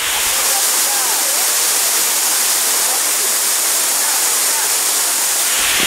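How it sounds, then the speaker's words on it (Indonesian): A loud, steady rush of a hidden forest waterfall, its water falling in fine droplets off foliage, a broad hissing roar that continues without a break. "Airnya yang sangat mirip seperti kelambu dikarenakan dia itu langsung jatuh dari dedaunan"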